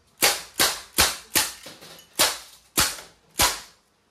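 CO2-powered blowback airgun rifle firing semi-auto: seven sharp, loud cracks in a steady rhythm roughly half a second apart, each with a brief snappy decay, with no talking.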